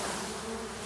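A dense, close swarm of honey bees buzzing loudly and continuously after being shaken into a tub, a thick droning hum with no voices.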